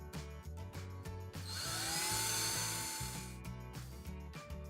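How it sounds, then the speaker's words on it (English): A cordless power drill whirs briefly and faintly while driving screws into a towel ring mounting plate on a wall, one sustained burst of a couple of seconds over background music. "We changed the drill bit, now it's time to tighten the screws."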